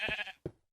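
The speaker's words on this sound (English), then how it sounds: "He's got a sheep friend." A sheep in a Minecraft adventure map gives two quick, nasal bleats, the second shorter than the first, close and clear with nothing else around.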